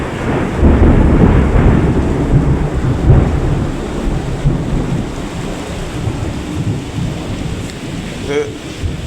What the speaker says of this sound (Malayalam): ഇത് ഇടിയാട്ടോ ഇപ്പോൾ കേട്ടത്.